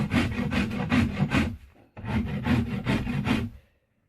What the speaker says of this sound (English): I'm just going to continue rasping and scraping